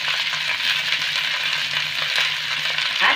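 Ivy gourd (kundru) pieces fry with salt and turmeric in a pan, giving a steady, close, continuous sizzle with light crackle throughout and no voices.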